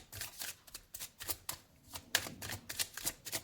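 Tarot cards are shuffled by hand in a quiet room, giving a quick run of soft riffling flicks and slaps at an uneven rhythm, close and fairly faint.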